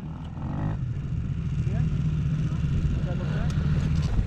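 An MRF 80 motorbike rides up a steep off-road climb, its engine rumbling steadily and building slightly in strength, with people talking over the noise.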